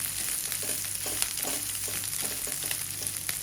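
Grated boiled potato being stirred and fried in oil for masala dosa filling makes a continuous close sizzle, with soft repeated scraping and thumps of the spoon through the mash.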